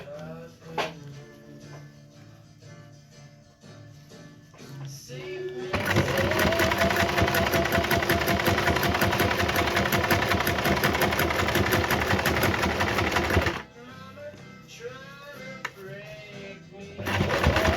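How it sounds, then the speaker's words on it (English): A sewing machine stitches fabric in a fast, even mechanical rattle that runs loud and close for about eight seconds, framed by quieter handling sounds and faint background chirps before and after. "Get your sewing machine and stitch"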